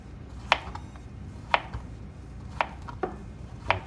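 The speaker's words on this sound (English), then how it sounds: "Just cut them into thin circles." A knife chops through yellow squash and zucchini on a cutting board, slicing them into thin circles: four or five sharp, isolated cuts land about a second apart over a quiet room.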